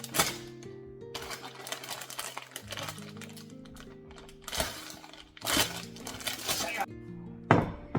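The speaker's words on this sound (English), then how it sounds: "Right here we got our zombie knife. Let's cut this open." Zombie knife cutting open a package of frog legs, with repeated close crinkling and tearing bursts mixed with clicks and clatter, and faint background sound in between.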